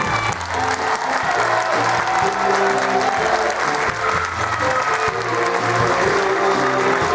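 A group of young people and children applauds at a parish gathering in Libourne, steady dense clapping that holds throughout over a low musical hum.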